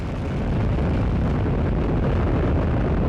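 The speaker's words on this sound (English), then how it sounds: "And liftoff of OSIRIS-REx, its 7-year mission to boldly go to the asteroid Bennu and back" The Atlas V launch of the OSIRIS-REx asteroid probe, a steady, dense, loud roar of rocket engines at liftoff that fills the whole stretch without a break.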